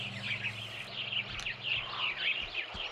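Birds chirping in the puzzle game Supraland, a steady stream of high tweets and trills close by, with a low background hum underneath.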